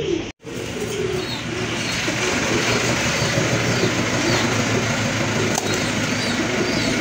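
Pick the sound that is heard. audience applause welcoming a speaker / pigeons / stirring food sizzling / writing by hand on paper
pigeons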